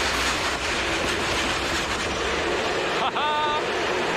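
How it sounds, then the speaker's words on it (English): A low-priority freight train rolls steadily through a rail yard, its broad continuous rumble and rattle loud and close throughout, with a brief high wheel squeal near the end. "This is a low priority train, but it's moving."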